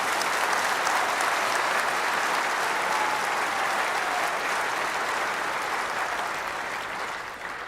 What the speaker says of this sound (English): So let's begin by giving Dennis Prager a round of applause and welcoming him.